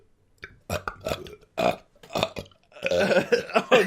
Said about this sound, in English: I burp a lot, and that's why I want to burp even more.